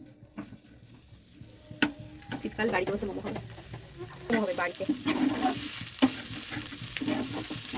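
Boiled chicken filling for home-made momos frying with onion and spices in a pan, a steady sizzle with occasional stirring clatter under a person talking.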